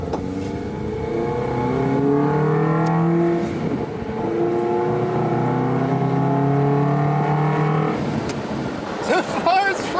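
A car engine run on Restore Additive in place of oil drones and revs as it drives off, pitch rising and falling through gear changes, loud and close, with a brief clatter near the end.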